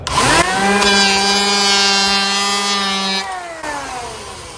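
A power planer shaves a curved edge on a door, its motor spinning up with a loud, close, tonal whine, holding steady as it cuts for several seconds, then winding down.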